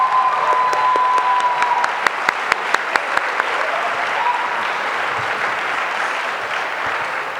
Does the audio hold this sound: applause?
yes